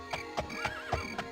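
A horse in the Daggerfall video game whinnies clearly, with rhythmic hoof clip-clops thudding underneath, close and alone.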